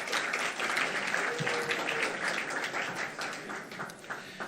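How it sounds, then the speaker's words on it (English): An audience at a Melave Malka gathering honoring a rabbi breaks into a steady round of applause, dense and sustained throughout, with a faint murmur of voices mixed in. "deserves a nice round of applause"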